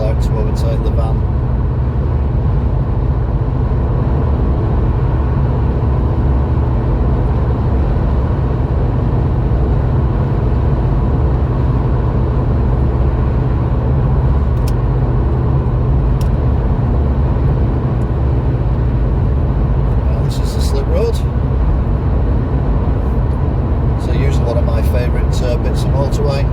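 Steady in-car road noise from a car cruising at motorway speed on the M60/M61, with continuous low tyre and engine rumble and occasional brief rattles, while overtaking a van in congested traffic.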